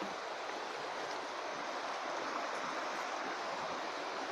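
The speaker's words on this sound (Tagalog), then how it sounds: "Ayan na ang ilog." A river reached on a rugged outdoor trek gives off steady, broadband rushing water, constant and fairly close throughout with no voices over it.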